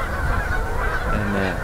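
Geese honk in a large flock beside a canal in Brabant, their calls layered and continuous at moderate distance over a low outdoor background, with no talking.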